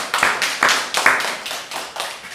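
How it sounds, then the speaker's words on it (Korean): Rhythmic hallelujah clapping from a church congregation on Pentecost Sunday, loud unison claps landing in a steady beat, roughly two per second, close and clear. "할렐루야 박수로 하나님께 영광을 돌리겠습니다."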